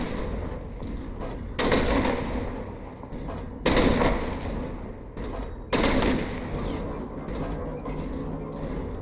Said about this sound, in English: Of course you can shoot the AC-10s forever.